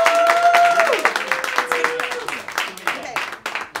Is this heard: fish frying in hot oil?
no